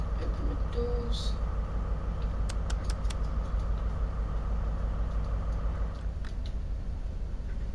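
A diesel train engine in the railway game Train Sim World idles steadily with a low, constant rumble, joined by a few brief higher clicks and hisses.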